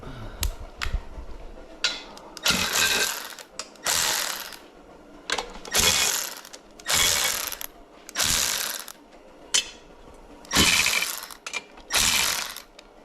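A Milwaukee ratchet loosens bolts on Vortec cylinder heads, giving about ten close, loud bursts of rapid ratcheting clicks separated by short pauses, with no talking.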